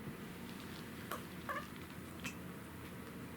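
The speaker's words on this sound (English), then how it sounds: "She makes noises that sound like gasping or gagging." A rescued cat that was abandoned in the woods makes three brief, faint gasping, gagging sounds instead of a normal meow, close by in a quiet room.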